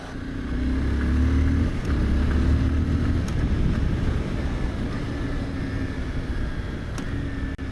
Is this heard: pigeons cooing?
no